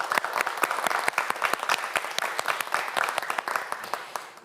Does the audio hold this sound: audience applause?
yes